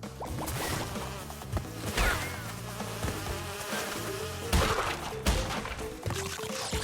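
Buzzing bees in a video game during a livestream, a continuous droning hum under game music with scattered thumps and crashes, no talking.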